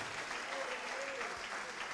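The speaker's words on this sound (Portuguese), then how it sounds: "Vamos aplaudir ao nosso Senhor Jesus Cristo" A church congregation applauds, a dense wash of clapping at a fairly low level that holds steadily throughout with a faint voice beneath.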